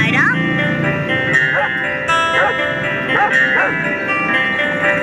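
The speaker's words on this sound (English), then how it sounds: "It's a dog." A dog barks in a run of about six sharp, evenly spaced barks, close and clear over a tuneful background, with a person talking.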